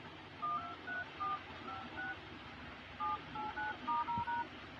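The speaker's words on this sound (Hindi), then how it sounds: "तो इसका कीपैड चेक करेंगे हम।" Keypad tones from a QMobile LT 700 Pro phone under test after a display replacement, a series of short DTMF beeps pressed in two quick bursts, fairly close and clear with no talking.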